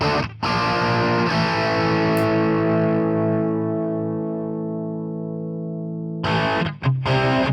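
Distorted electric guitar through Amplitube 5 with a different microphone selected, a loud chord struck and left ringing for several seconds as it slowly decays, then a few fresh choppy strums near the end.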